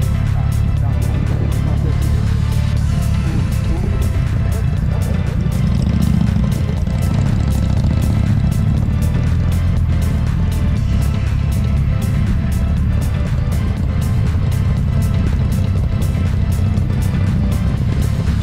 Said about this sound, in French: J'essaye de vraiment rouler au pas parce que cette moto fait un raffut du diable.